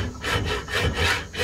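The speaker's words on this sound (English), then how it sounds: "I'm just going to use a hacksaw here." A hacksaw cuts through a stuck bullet lodged in a gun barrel, with steady back-and-forth rasping strokes in an even rhythm, close and loud with no talking.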